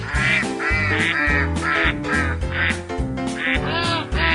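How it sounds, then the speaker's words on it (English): Several ducks quack loudly and close by in an indoor living room, a dense run of overlapping, raspy calls with no pauses. "We'll be right back after Bob gets the ducks out of his living room."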